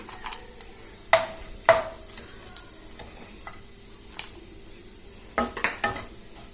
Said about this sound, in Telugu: ఇవి కూడా కాస్త కలర్ మారే వరకు మనం వేయించుకొని తీసుకోవాలి.